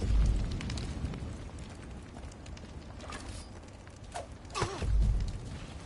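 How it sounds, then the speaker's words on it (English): Low roaring rumble of a burning house fire on a Far Cry map, a steady faint crackling bed with a few sharper pops and swells near the start and end, no talking. "So this is the house fire right here."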